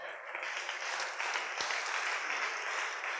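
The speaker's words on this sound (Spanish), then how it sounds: "Denle un fuerte aplauso al Señor." Steady, dense applause from a crowd fills the whole stretch, loud and continuous with no pauses.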